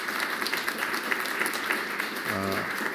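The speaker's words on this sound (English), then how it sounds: "Let's give them a round of applause for that as well." A crowd applauds steadily, a dense wash of clapping from many hands that holds throughout, with a brief low tone near the end.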